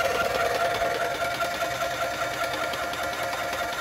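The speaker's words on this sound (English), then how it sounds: "You'll hear the pump run" A Graco paint sprayer pump runs continuously while priming, a steady mechanical buzzing and rattling hum at moderate level, close by with no speech.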